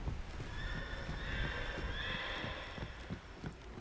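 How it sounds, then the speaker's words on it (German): Horses neigh and whinny in the Halo 2 Anniversary video game, with hooves clip-clopping underneath; the whinnies ride over a steady layer of game ambience and stay fairly close throughout, with no talk. "Haben wir jetzt Pferde hier oder was?"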